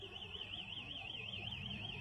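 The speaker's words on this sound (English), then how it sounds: "A cat somehow got into this bank and set off the alarm." A bank's alarm, tripped by a cat, sounds continuously as a loud, steady electronic tone that warbles up and down in a regular, rapid cycle over a low background rumble.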